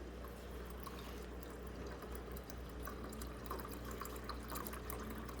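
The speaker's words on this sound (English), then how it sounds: "I do have the water running 24 hours a day. It just continue to circulate it." Water circulating continuously through a Growell 60-pod hydroponic growing system, a faint steady trickle and splash with small irregular drips, heard alone and close.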